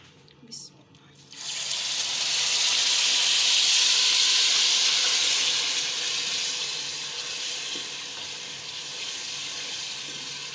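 Sugar heated with a few drops of water in a pan for making zarda, creamy sweet rice, lets out a loud steady hiss and sizzle that starts abruptly after a brief clatter and slowly eases.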